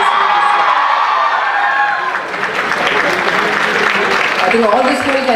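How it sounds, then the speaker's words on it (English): Audience at a college excellence day ceremony applauding, dense clapping swelling from a crowd with scattered cheers, continuing loudly after a voice over a speaker system fades out. "I think all these schools can give a round of applause."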